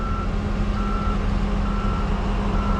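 A Kenworth truck backs a trailer slowly, its reversing alarm sounding steady repeated beeps over a loud, constant diesel engine rumble, with no talking.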